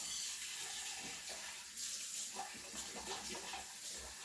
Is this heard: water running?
yes